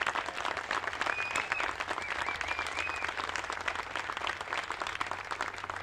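A crowd at a museum opening gives steady applause for a man named Ray, even clapping at moderate distance with a few faint whistles threaded through it.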